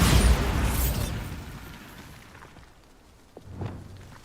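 A Bombarda blasting spell from Hogwarts Legacy goes off as a loud magical boom with a bright burst at the start that decays into a fading rumble, followed by a smaller thump and crackle a few seconds later.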